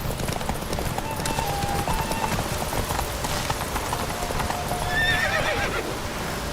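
A horse in The Witcher 3 gallops steadily under a dense clatter of hooves, with a whinny near the end over a continuous game backdrop.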